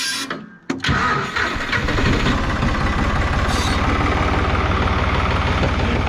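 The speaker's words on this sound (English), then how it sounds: "So let's go ahead and jump on this tractor and get started" A tractor engine cranks briefly, then catches and settles into a loud, steady mid-pitched running rumble with a dense rhythmic pulse, heard alone at close range.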